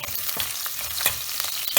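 Ginger, garlic and slit green chillies fry in a pan with a steady, close sizzle and a few stirring scrapes, with no talking.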